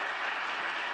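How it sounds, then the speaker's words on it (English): A crowd at an awards ceremony applauds for an honoree. The clapping is dense and steady, a continuous wash of many hands held at one even level throughout, with no voices above it. "We can give her a round of applause."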